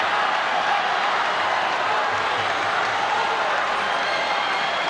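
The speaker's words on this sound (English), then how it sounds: "Disappointment from the crowd." Crowd murmuring and groaning in disappointment at the 2012 All England men's singles badminton final, a steady, broad wash of many voices filling the hall without distinct claps or cheers.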